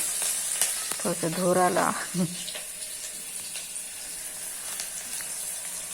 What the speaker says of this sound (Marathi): कांदा जरा लालसर परतून घ्यायचा.